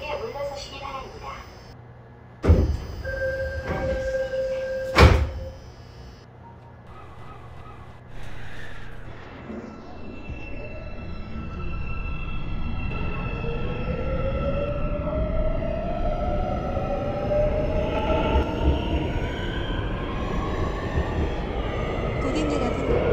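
A Seoul Subway Line 4 train bound for Oido closes its doors with loud door thumps and chime tones over a platform announcement, then pulls away. The traction motors whine and rise steadily in pitch under rolling rumble.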